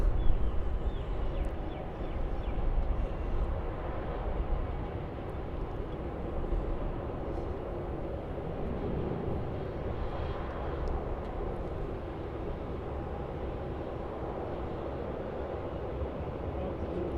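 A Boeing 787 departs Melbourne Airport bound for Denpasar, its engines giving a steady, broad roar that holds at a fairly constant level throughout, with no talk over it.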